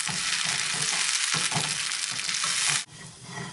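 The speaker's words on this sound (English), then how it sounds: "Yeah, I have been stir frying this green peas for about 4 minutes." Green peas stir-frying in a hot pan with salt, giving a steady loud sizzle with scraping stir strokes that cuts off sharply near the end, then a quieter sizzle resumes.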